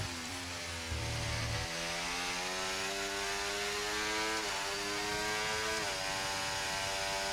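Formula 1 race car engine in the F1 24 video game at the Barcelona Spain Grand Prix, screaming at full throttle with steady rising pitch, brief dips at gear upshifts, loud and continuous with no talking.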